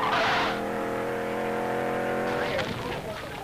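A supercharged V16 Auto Union Grand Prix car from the 1930s runs on a track, its engine note loud and steady with harmonic layers, rising into a brief squeal near the end.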